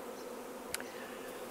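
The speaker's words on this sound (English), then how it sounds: "There's bees everywhere again." Honey bees buzz around a swarm box in a steady, continuous drone of many insects close by, with one brief sharp click partway through and no voices.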